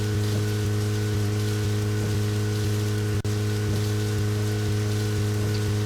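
Steady rain hisses evenly over a low, constant hum in the video game Deadly Premonition, with a single sharp crack of lightning partway through; no voices.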